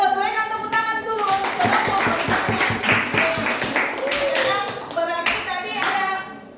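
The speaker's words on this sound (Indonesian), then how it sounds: "Berikan tepuk tangan dulu." Rhythmic group clapping from a class in an Indonesian school science lesson, loud and close, with children's voices and talk over and around the claps.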